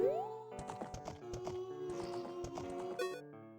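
Epona, the horse in Zelda: Ocarina of Time, clip-clops in a steady rhythm of hoofbeats over looping game music, ending with a brief chime.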